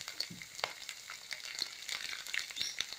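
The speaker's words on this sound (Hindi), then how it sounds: "तेल गर्म हो गया, अब हम इसमें डालेंगे करी पत्ते। करी पत्ते के साथ ही डालेंगे हम इसमें लहसुन" Curry leaves and garlic hitting hot oil in a pan for a mixed vegetable sabji, giving a faint, steady crackling sizzle with scattered sharp pops and no talking.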